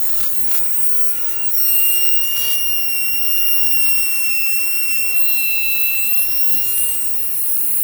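A small F130 toy DC motor runs at 3.7 volts, giving off a steady high-pitched whine that wavers slightly in pitch and holds constant for several seconds.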